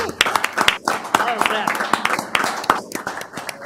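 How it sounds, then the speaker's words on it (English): An audience at an Ogden city meeting gives the Scouts a round of applause: a short burst of crowd clapping with sharp individual claps standing out and voices talking underneath. "we need to give the Scouts a round of applause"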